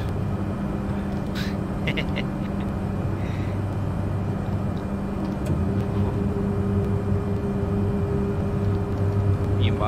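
Low, steady engine drone and hum of a flying school bus aircraft taking off in Flight Simulator 2020, building slightly in loudness, with faint clicks over it and a person talking.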